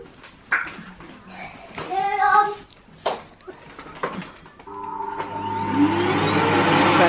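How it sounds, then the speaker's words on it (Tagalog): Someone speaks and makes small noises before a household vacuum cleaner switches on and keeps up a rising, steady whirring hum. "Gusto niyo raw siyang mag-vacuum."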